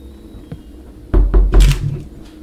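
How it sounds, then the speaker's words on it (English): A few heavy thuds strike close and loud, like knocks on a door in a room, starting with a soft tap and then three deep booming hits in quick succession, with no talking. "Wait, did y'all hear that knock?"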